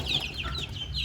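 Backyard chickens in a coop give a rapid run of high, bright chirping clucks, several quick calls packed into a single second, close by with no talking.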